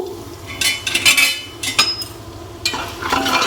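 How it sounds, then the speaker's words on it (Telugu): Ginger garlic paste with turmeric, onions and green chillies fries in a pan while a utensil stirs it with sharp scrapes and metallic clinks over a soft sizzle, fairly loud and close. "అల్లం వెల్లుల్లి పేస్ట్ పసుపు అయితే మంచిగా మిక్స్ చేసుకొని ఒక వన్ మినిట్ అయితే ఫ్రై చేసుకుందాం"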